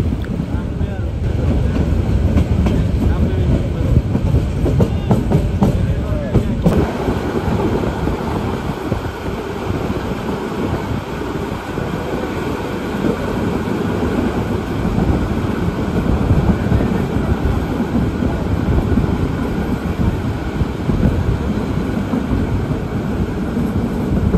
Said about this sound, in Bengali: এই মুহূর্তে আমাদের ট্রেন প্রবেশ করছে হাসানপুর স্টেশন